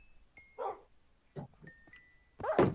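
Tamed dogs in Minecraft bark and yip in a few short, close outbursts with quiet gaps between them, alongside faint pinging game tones.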